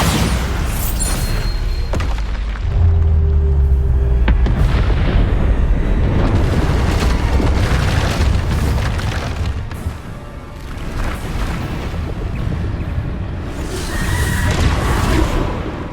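Bombarda spells explode one after another during a wizard duel in a video game, giving deep booms and sharp bursts with rumbling tails over steady, loud battle noise.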